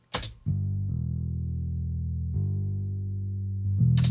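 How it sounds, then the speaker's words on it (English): A plain, dry programmed synth bass, the stock bass preset from the Kontakt library, plays sustained low notes, changing pitch a few times, steady and loud with no talking. "It's just the stock bass preset in the Contact library."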